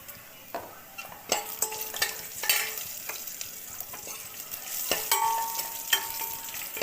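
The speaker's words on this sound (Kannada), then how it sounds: "ಈರುಳ್ಳಿ, ಒಣ ಮೆಣಸಿನ್ಕಾಯಿ ಹಾಕಿ ಫ್ರೈ ಮಾಡ್ತಾಯಿದ್ದೀನಿ." Asafoetida, garlic, onion and dry red chillies fry in hot oil for a tempering, giving a bright crackling sizzle. Frequent stirring scrapes and clinks punctuate it, and it grows busier toward the end. No voices are heard.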